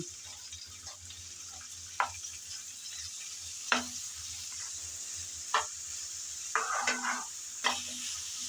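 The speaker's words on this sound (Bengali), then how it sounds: "গাজর আর কাঁচামরিচ সব একসাথে দিয়ে ভালো করে নেড়ে চেড়ে নিতে হবে" Carrots and green chillies being stir-fried together for chicken chow mein, a steady low sizzle with occasional scrapes and clinks of a spatula against the pan, fairly quiet throughout.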